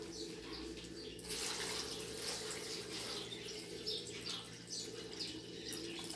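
Water running from a kitchen tap while making pineapple popsicles, a steady soft splashing hiss that grows brighter after the first second and continues at moderate, fairly faint level throughout.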